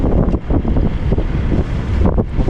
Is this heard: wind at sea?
yes